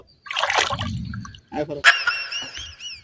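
Water splashes onto a floor in a burst, then drips and trickles, close and fairly loud, with voices talking and exclaiming over it.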